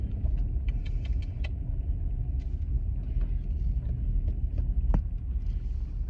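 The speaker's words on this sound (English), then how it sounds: "We're just driving along the road." Car driving along a road past ditches, heard from inside the cabin as a steady low engine and road rumble, with a few faint rattles and light clicks scattered over the drone.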